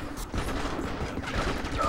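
Rapid gunfire bursts from the Enter the Matrix video game, dense and loud, a burst near the start and more shots crowding together through the rest of the short stretch, with no one talking.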